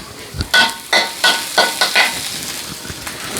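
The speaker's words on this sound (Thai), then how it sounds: "นี่ค่ะใส่กระเทียมลงไปค่ะ ใช้ไฟกลางๆนะคะ" Garlic crackles and sizzles in hot oil over medium heat with a series of sharp bursts, like stirring in a pan, close and fairly loud, then settling to a steady fizz.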